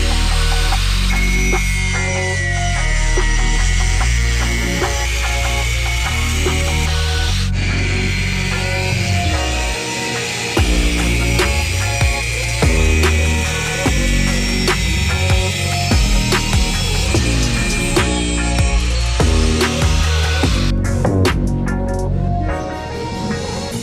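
Power tools grind and cut while notching a steel radiator support bar for a crashed Lexus SC400, loud continuous whining and screeching with shifting pitch and brief pauses, close and harsh throughout.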